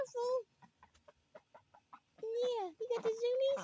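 Ducks on a farm in West Virginia squawking while running around, loud nasal calls at the start and end with a string of quick soft clucks and patters between, close to the listener, with a person talking nearby.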